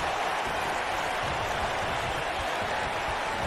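A dense, steady roar of a virtual arena crowd in the WWE 2K19 wrestling game during a Monday Night Raw match, a continuous wash of cheering noise with no breaks.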